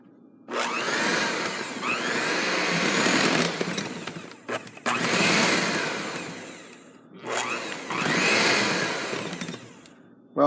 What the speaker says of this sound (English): Stir this up till it looks about like that, till everything's all mixed together